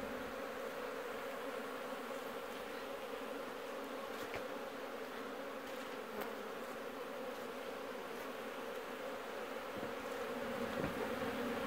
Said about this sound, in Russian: И вот так пчелы начали интенсивно летать.